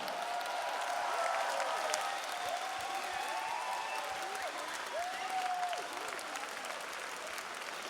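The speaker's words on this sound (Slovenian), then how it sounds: "Predlagam, da jih nagradimo z enim bučnim aplavzom." A school graduation ball crowd at Prva Gimnazija Maribor applauds the graduates after their dances, with continuous moderately loud clapping while some voices and a few whistles rise over the steady roar.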